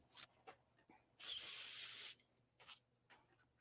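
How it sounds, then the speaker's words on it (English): Pro Spray adhesive hisses out in one steady burst lasting under a second, ahead of heat pressing, close by, framed by quiet rustles and taps. "little bit of Pro Spray, make it stick"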